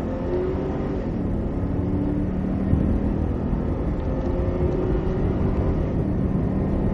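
A Cadillac CTS-V accelerates at full throttle on a race track, a steady, deep engine drone with low rumble held throughout, heard from inside the car without talk.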